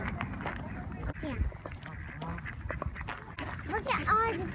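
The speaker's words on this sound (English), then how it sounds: "Look at all the ducks." Ducks quacking repeatedly at a duck pond with geese nearby, the calls close and fairly loud, mixed with people talking over them.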